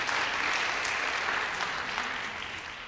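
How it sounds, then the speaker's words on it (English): Audience applause at a speaking event in Richmond, a steady broadband clatter of many clapping hands that stays loud and even for about three seconds before easing slightly toward the end. "Let's give a nice round of applause"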